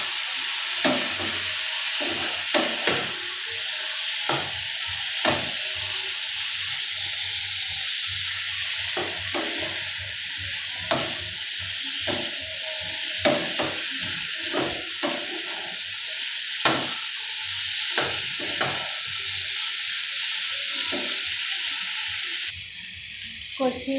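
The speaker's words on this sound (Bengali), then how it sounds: "ভালোভাবে আরেকটু কষিয়ে নেব।" Soybean chunks and potatoes are sautéed with spices in a hot pan. A loud, constant sizzle runs throughout with frequent spatula scrapes and taps, and a voice talks faintly in the background.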